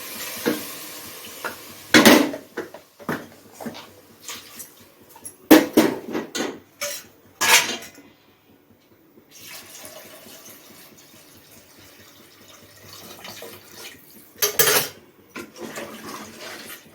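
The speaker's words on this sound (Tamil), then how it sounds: "நல்லா கலக்கி விட்டுருங்க." A spoon stirs crab soup in a pot, giving intermittent clinks and scrapes of metal with soft liquid sloshing between quieter stretches, close and alone.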